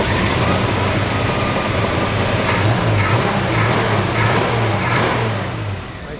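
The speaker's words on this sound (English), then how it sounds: "nice sounding engine. It's got a high-rise intake and the new Edelbrock." A 1953 Ford F100 engine fitted with a high-rise Edelbrock intake runs steadily up close, a loud, continuous idle with a few light revs, and a voice briefly speaks over it.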